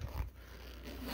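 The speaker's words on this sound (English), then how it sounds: "This is a real zipper." A real zipper on a Gemmy 2009 Michael Myers animatronic's jumpsuit gives a brief, close scraping rasp, with a quick burst near the start and a softer drag after it.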